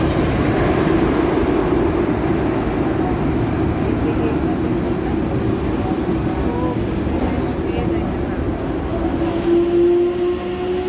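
A Vistadome train passes near a station platform, making a loud, sustained rumbling roar that holds steady for about ten seconds, with a faint higher whine near the end.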